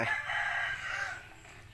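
A rooster crows once, near and loud, its call sustained then fading out, heard alone among birds kept as decoys for trapping wild junglefowl.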